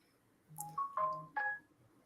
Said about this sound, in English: Phone alerts.